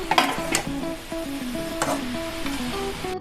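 Fried soybeans and cabbage being stirred together in a pan: a few quick scraping strokes over a soft sizzle, with a steady melodic tune playing underneath.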